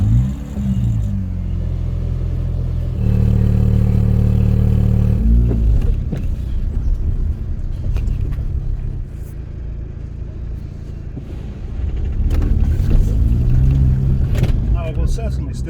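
A Mini Cooper S GTT220 engine runs with a steady low rumble that swells louder in the middle, then settles into a continuous close drone with some rise near the end.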